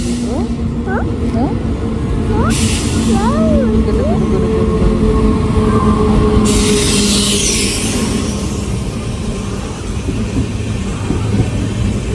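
A train rumbles steadily nearby with rail noise throughout, heard from on board while people talk over it and a few high squeals rise briefly.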